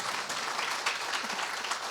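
A church congregation at a worship service in the UAE claps in praise, a dense, steady patter of many hands close by with no voices over it.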